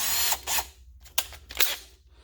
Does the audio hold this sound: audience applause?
no